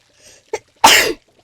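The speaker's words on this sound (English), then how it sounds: "I feel like I'm gonna sneeze" A single sharp sneeze, close and fairly loud, with a small breathy intake just before it and then quiet.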